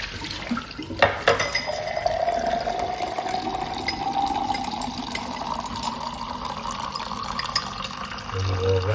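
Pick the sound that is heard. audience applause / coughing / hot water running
hot water running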